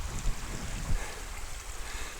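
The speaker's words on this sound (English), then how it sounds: "The water washes over it." Creek water washing over a worn boulder in Arizona, a continuous rushing wash with a couple of low surges, close by and steady, with no voices.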